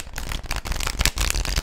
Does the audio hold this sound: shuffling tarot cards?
yes